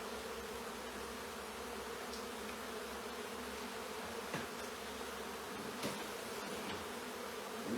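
Honey bees swarm in a dense, steady buzzing drone while being removed from a chimney in Congleton. A few louder bees pass close by, and no one speaks.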